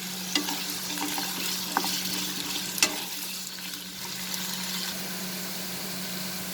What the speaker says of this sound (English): So let's only first fry these potatoes for 3 to 4 minutes